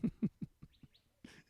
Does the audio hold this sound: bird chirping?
yes